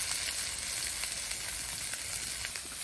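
Finely chopped onion and green chilli fry in oil with a dense, even sizzle that holds steady from start to finish, close by. Faint stirring scrapes are barely noticeable, and no one talks.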